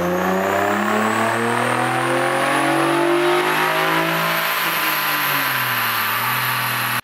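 A Nissan 350Z with a new intake manifold revs hard through a full dyno pull, its loud engine note climbing steadily in pitch for several seconds before cutting off abruptly.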